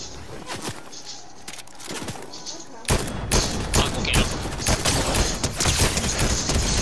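Gunfire in a Fortnite match, scattered single shots and then, midway, a loud burst of dense rapid fire with many overlapping cracks, close and punchy.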